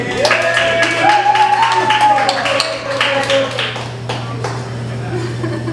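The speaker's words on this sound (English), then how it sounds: "Let's give a big round of applause and keep it going for Ryan Cundy, everybody." A comedy club audience applauds a stand-up comedian at a live late show, a sustained patter of clapping under a host's amplified voice.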